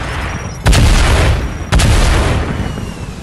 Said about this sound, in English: Oh no, RPG!